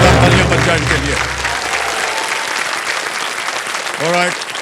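Studio audience applause on the TV quiz show KBC: loud, dense clapping from a large crowd that runs steadily throughout, with a low musical swell fading early and a brief voice near the end.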